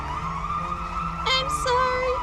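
An ambulance siren in the video game Turovero: The Celestial Tower wails with rising and falling tones over a steady background hum, loud and close.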